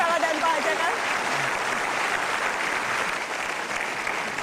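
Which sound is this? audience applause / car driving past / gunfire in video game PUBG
audience applause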